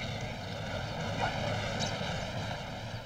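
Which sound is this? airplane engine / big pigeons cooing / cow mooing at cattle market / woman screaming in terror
airplane engine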